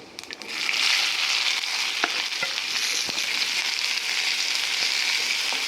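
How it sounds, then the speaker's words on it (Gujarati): Green onion and sliced dried onion sautéing in hot ghee with cumin, giving a loud, close, continuous sizzle with a few light stirring taps and scrapes in the pan. "લીલી ડુંગળી અને સૂકી ડુંગળી ઘીમાં પહેલાં સાતળી લઈશું"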